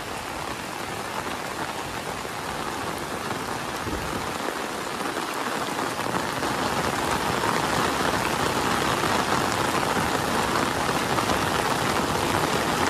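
Heavy rain pours over a mountain village, a dense, constant roar of drops on surfaces that grows slightly louder partway through and continues unbroken with no voices.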